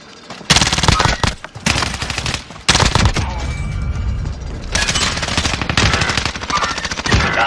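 Bursts of automatic gunfire from the Call of Duty: Warzone video game on Rebirth Island rattle loudly in repeated volleys with short gaps between them, close and dense.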